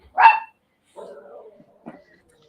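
One sharp bark close by, followed by softer whining yelps trailing off in an otherwise quiet room.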